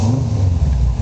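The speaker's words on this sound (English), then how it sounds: "Let you hear it start up and running." A restored 1939 GMC pickup truck with a restomod setup and dual exhaust fires up, a steady loud engine rumble settling into a running idle across the short moment, with no talking.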